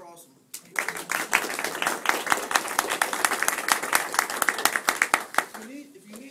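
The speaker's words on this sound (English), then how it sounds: "I'm going to give them a round of applause because they're awesome." An audience claps for two people, a dense run of individual claps starting abruptly after a brief pause and carrying on for several seconds before tapering off.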